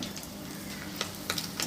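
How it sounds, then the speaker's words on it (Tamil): Dried potato vathal chips bubble in hot oil for homemade crisps, a soft continuous sizzle with a few sharper crackles near the end, fairly quiet and with no talk. "இப்போ இந்த சிப்ஸை எண்ணெயில் போட்டு பொரிச்சு எடுத்துக்கலாம்"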